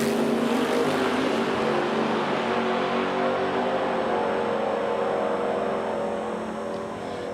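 Drag race cars run down the track at the T&T Motorsports Oil City Classic in Edmonton, Alberta. Their engines make a loud, sustained roar that slowly fades as the cars pull away.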